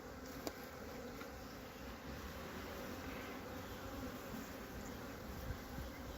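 Honeybees buzz around their hives on a cool, damp day, a steady, dense humming swarm that stays soft and even throughout.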